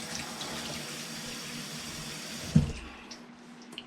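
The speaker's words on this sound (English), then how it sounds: "Rinse this off." Tap water runs steadily into a sink while meat is rinsed, a close hiss that cuts off partway through, followed by a few faint drips and clunks.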